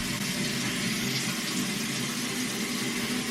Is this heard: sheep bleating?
no